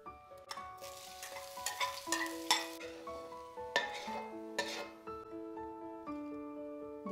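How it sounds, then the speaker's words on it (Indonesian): Garlic and shallots frying in a pan, with steady sizzling under repeated clinks and scrapes of a utensil stirring against the pan, close and moderately loud, with no talking. "Selanjutnya aku mau menggoreng bawang putih, bawang merahnya ya, teman-teman."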